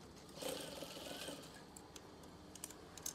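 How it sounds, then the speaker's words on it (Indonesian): Sewing machine stitching a folded curtain hem, a quiet rapid mechanical whir building for about a second before fading into scattered light clicks and taps. "Setelah dilipat, kemudian jahit."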